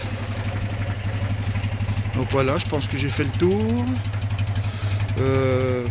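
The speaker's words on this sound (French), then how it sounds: "On entend bien là, le petit pétaradement du 2 en 1." A motorcycle with a 2-into-1 exhaust idles steadily, still slightly cold, with a low, even putter and small pops from the exhaust while someone talks over it.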